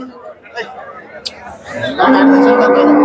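Cattle moo loudly at Kundadam cow market, one long sustained low call rising out of background chatter and crowd murmur near the end.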